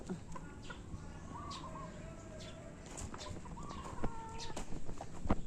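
Several chickens cluck and chatter nearby in short, irregular bursts, with a brief flutter of wings and faint farmyard noise around them.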